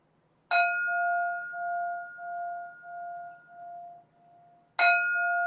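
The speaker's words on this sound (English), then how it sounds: "Third bell." A meditation bell is struck once and rings out with a clear, pure tone that slowly pulses and fades over several seconds before a second strike rings again, quiet and spacious with no talking.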